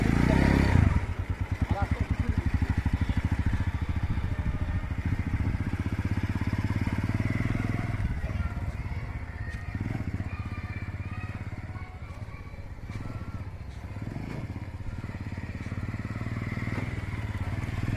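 A motorcycle pulls away and rides on after being shifted into first gear, its engine running steadily with throttle surges and light clatter, while someone talks over it.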